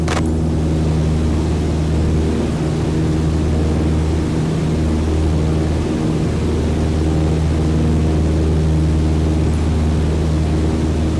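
A propeller airplane engine at 2,300 RPM in a flight simulator drones loud and steady, a constant low hum with a broad rushing noise that holds the whole time without change.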